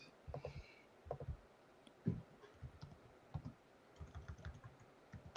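Quiet computer keyboard typing, short clusters of clicks spaced out over a faint background hiss, close by.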